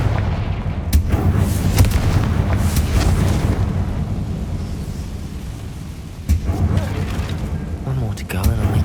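A Confringo spell explosion in the video game Hogwarts Legacy sounds as a loud, dense rumbling blast with crackling debris. The roar sustains and tails off, then a second burst hits near the end, with a voice speaking over it.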